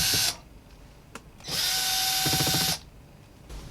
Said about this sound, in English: Okay, I've got all the screws removed.